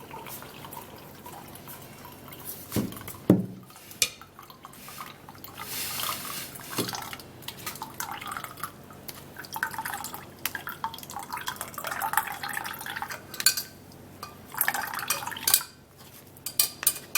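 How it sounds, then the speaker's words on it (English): Onion tea is squeezed and poured through a sieve, giving faint dripping and trickling liquid with occasional clinks of a utensil against a bowl, scattered and irregular over quiet room tone. "I love to squeeze out my juice and sieve it out"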